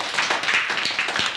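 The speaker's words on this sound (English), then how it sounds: "A round of applause." A fourth-grade class claps in a short burst of applause, dense overlapping hand claps filling the room for just over a second.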